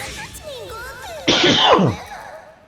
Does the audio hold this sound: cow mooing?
no